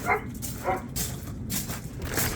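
Dogs bark and yip at home outdoors, several short barks spread across the moment, fairly close and loud over steady background noise.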